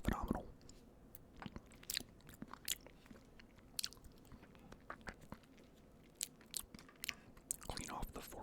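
Soft, close-up bites and chews of Walmart cheesecake, with wet smacks and light crunchy clicks scattered irregularly over quiet background hiss, some bursts clustering near the end.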